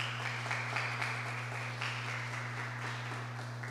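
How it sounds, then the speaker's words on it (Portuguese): A church congregation breaking into sustained applause after a scripture reading, a steady wash of many hands clapping under a constant low hum from the room's sound system. "saudar a palavra de Deus, dar uma grande salva de palmas."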